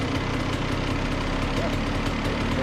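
A KTM EXC dirt bike engine runs after being de-flooded, a steady, close, continuous rough idle with a fast low throbbing rhythm and no talking.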